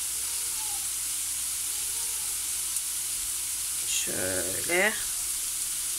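Small, thin frozen bite-sized pieces fry without oil in a new pan, a steady close sizzle and hiss throughout, with a brief spoken word near the end.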